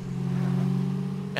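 A car revs and accelerates in the State of Decay video game, a loud steady engine drone close up that holds throughout with no speech over it.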